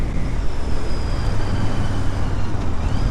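A Royal Enfield Interceptor 650 motorcycle is ridden, its engine a steady, smooth drone blended with loud wind and road rush and a faint high whine, with no talking.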